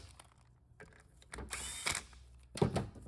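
A hand tool tightens bolts on a Subaru 4EAT automatic transmission valve body to about 90 inch-pounds, faint ratcheting clicks with a few brief louder metallic bursts in a quiet workshop.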